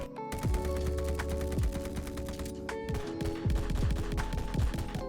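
Rapid automatic gunfire from the Mastercraft Fire Tracer weapon in the shooter game Vanguard rattles in dense bursts, loud and close, with sharp repeated shots and brief pauses between volleys.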